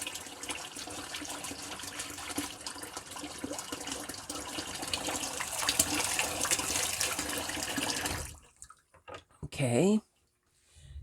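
Tap water runs steadily into a kitchen sink, a continuous splashing hiss that stops abruptly, followed by brief handling sounds and a short voice.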